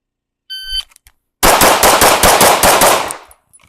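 Rapid pistol gunfire during dynamic target shooting, a fast string of roughly a dozen close, loud shots fired in quick rhythm for about two seconds, preceded by a short beeping shot timer.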